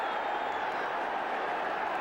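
Football stadium crowd at a Sunderland league match in 1982, a steady, dense roar of many voices that fills the whole stretch without pause or peaks, with no commentary over it.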